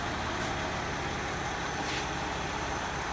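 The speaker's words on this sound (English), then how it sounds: "Got an engine noise on the front." A 2000 Mercedes ML320 engine idles with the air conditioning running, giving a steady, continuous mechanical drone with a faint rhythmic ticking, consistent with serpentine belt and tensioner noise, close and without speech.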